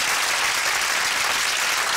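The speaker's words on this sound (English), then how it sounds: "Give them all a round of applause." Studio audience on a UK TV game show claps in a dense, even burst of applause that stays loud and continuous from start to finish.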